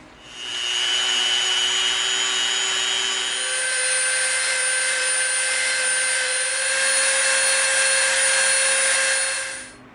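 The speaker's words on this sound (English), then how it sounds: "we're going to round off both edges all the way around this piece with our Dremel" A Dremel rotary tool rounds the edges of EVA foam with a continuous high, whining grind. The pitch shifts slightly partway through as the load changes, and the sound stays loud and close until it tapers off at the end.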